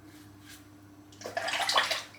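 A Karve Overlander safety razor sloshed and shaken in a basin of rinse water, a quiet lead-in giving way to a burst of close splashing and churning that lasts about a second.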